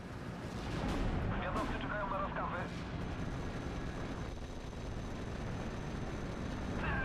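Off-map artillery strike in the video game Steel Division: Normandy 44, heavy booming blasts with rumbling aftermath, loud throughout, with someone talking over them.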